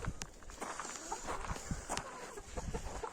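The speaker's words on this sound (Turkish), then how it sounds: "6 tavuk, 2 horoz var." Chickens and roosters in a backyard yard flock of six hens and two roosters, clucking and scratching in soft intermittent bursts with rustling steps on the ground, moderately near and fairly quiet, no talk.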